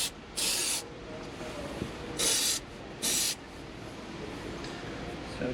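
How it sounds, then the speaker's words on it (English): Three short bursts of spray-can activator being sprayed during custom subwoofer enclosure work for a 2016 Lamborghini Huracán, sharp hissing puffs separated by quiet pauses. "So we'll spray ourselves in the face with activator."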